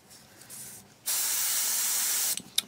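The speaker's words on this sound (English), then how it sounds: "Quick spray." A steady, loud airbrush hiss sprays white paint on a 1/35 scale model tank for over a second after a quieter lead-in, then stops with a few short bursts of spray at the end.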